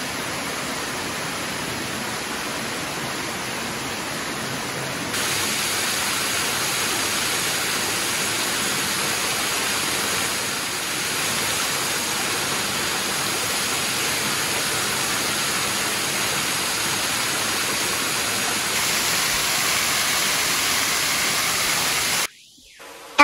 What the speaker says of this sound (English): This is Biwa Falls.